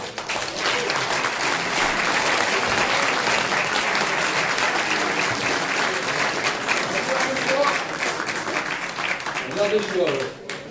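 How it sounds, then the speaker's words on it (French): Loud, sustained applause from a large audience at a French conference, dense clapping that continues for over ten seconds while a voice speaks near the end. "Je vous demande de l'applaudir"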